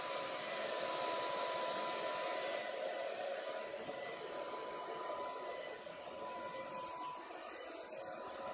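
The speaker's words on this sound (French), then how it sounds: "je vais me sécher mes cheveux" A hair dryer blows in a steady, close, continuous roar while hair is dried at home, its airy hiss holding at an even level throughout with no speech.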